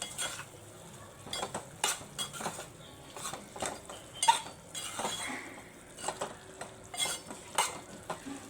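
A spoon scrapes and clinks against a pan in irregular strokes over a soft sizzle of spicy mutton fry, close and moderately quiet.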